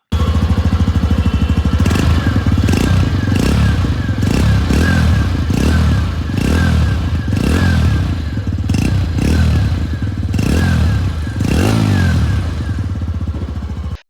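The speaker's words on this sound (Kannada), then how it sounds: "ಬನ್ನಿ ಎಕ್ಸಾಸ್ಟ್ ನೋಟ್ ನ ನೋಡ್ಕೊಂಡು ಬರೋಣ." A TVS Radeon 110 cc motorcycle gives a loud, deep, bassy exhaust note up close, with a steady engine drone broken by repeated throttle blips.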